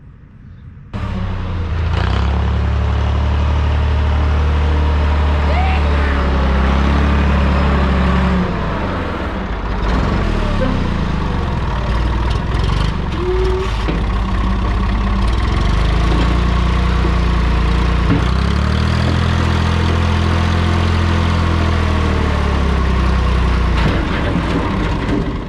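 A Massey Ferguson MF30 industrial loader tractor with a diesel fuel-line issue starts up after a second and settles into a steady, loud, rumbling idle with small shifts in engine pitch, no talking over it.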